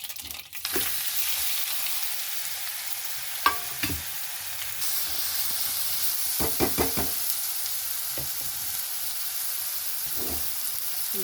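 Stuffed bananas dropping into hot oil seasoned with mustard seeds, cumin and asafoetida in a pan, frying with a steady sizzle under a few close clatters and stirring knocks.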